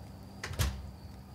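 A door opening in the horror video game Song of Horror, a short creak and soft knock at moderate volume over quiet ambient hum, with no talking.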